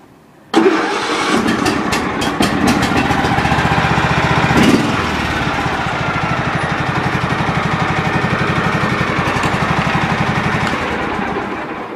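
A lawn mower engine, given some choke, fires up abruptly after a quiet moment, then settles into a loud, steady, close rhythmic running drone that continues to the end.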